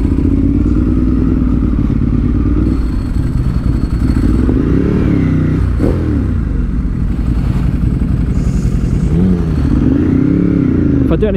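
A motorcycle engine drones loudly throughout. It swells as the bike passes near the middle and again toward the end, with clattering thumps and faint voices underneath.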